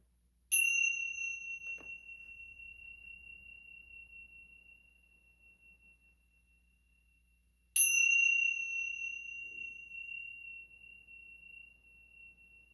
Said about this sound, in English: Another fun one is chimes that you can play with.